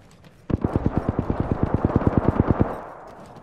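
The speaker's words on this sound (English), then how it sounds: "They're shooting at me." Rapid automatic gunfire in the video game Apex Legends: a burst of about twenty evenly spaced shots over two seconds, loud and close, then a quiet tail.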